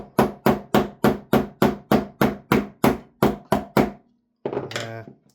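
Screwdriver used as a makeshift punch tapping out a pin from a VORSK MWS rifle magazine during teardown: about thirteen sharp, evenly spaced metallic knocks close up, then a brief pause and a short scraping clatter.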